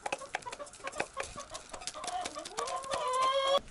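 Hens cluck in short, repeated calls close by, building into a longer drawn-out cackle toward the end, with no talking over them.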